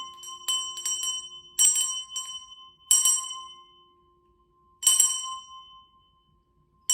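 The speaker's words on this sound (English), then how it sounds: "let's use the bells that my daughter has given me" Small handheld bells ringing in a quiet spiritual meditation space, several bright metallic strikes in irregular clusters, each left to ring and fade into near silence between them.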